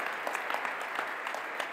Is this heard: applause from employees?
yes